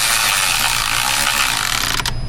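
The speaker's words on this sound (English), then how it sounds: "Yeah, I'm tightening these so they're tight." A hand ratchet tightening bolts on a Jeep Wrangler 3.6 gives a fast, continuous close clicking of the pawl for about two seconds, then stops abruptly.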